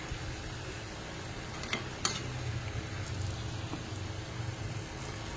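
Paneer masala with peas sautés in a pan with onion, garlic, ginger, tomato paste, green chili, salt and turmeric, giving a soft steady sizzle with a few faint utensil clicks and scrapes.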